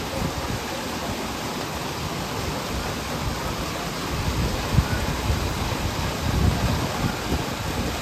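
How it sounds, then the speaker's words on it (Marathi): Heavy rain falls steadily outside, a dense, even broadband hiss with no breaks, fairly loud throughout and no talk over it. "पाऊस पण एवढा जोरात बाहेर पडतोय ना"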